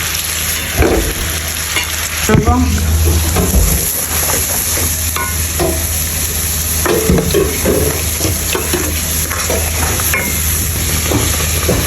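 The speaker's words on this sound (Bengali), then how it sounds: "এই তেলের মধ্যে আমরা মশলাটাকে ভালো করে কষাই নিব।" Spice paste frying in hot oil after chicken has been fried, with bay leaf added, gives a steady loud sizzle and hiss and occasional stirring scrapes, heard close and without voices.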